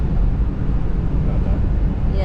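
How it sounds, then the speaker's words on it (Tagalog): Strong wind batters an outdoor microphone in a steady, loud low rumble that never lets up, with no clear voices over it. "the wind is kicking"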